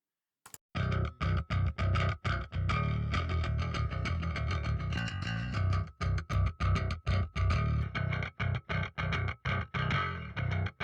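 A mix's low end is driven through TH3 distortion, giving a thick, gritty bass-heavy sound that plays in loud rhythmic bursts with sharp gaps between chords.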